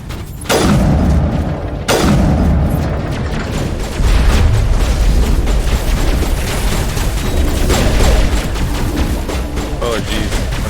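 A grenade blast in the game Mass Effect 1, a loud booming explosion followed by sustained rumbling and crackling debris, with further heavy thuds layered over continuous dense battle noise.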